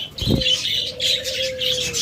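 Caged budgerigars, cockatiels and lovebirds twitter in a flurry of high, overlapping chirps close by, with a brief rustle near the start.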